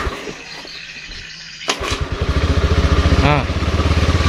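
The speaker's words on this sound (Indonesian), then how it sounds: "sekarang kita akan tes engkol" A Honda Beat FI fuel-injected scooter, brought in for hard starting and not revving, is kick-started: a few quiet mechanical clicks, then a sharp catch and the engine firing into a rapid, loud, close idle chug.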